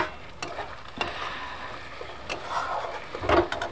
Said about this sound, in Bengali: এবার আমরা টমেটোটাকে দিয়ে দিচ্ছি